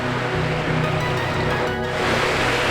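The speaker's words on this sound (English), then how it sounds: "There's the waterfall" A mountain waterfall in Idaho, near an old mine, gives a loud, unbroken roar of rushing water that fills the whole moment evenly, with no pauses or voices.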